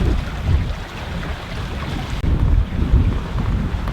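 A sailboat off the Mull of Kintyre, reefed main and full genoa, running under sail: steady roaring wind buffeting the microphone over rushing waves and water against the hull, loud and continuous with no voices.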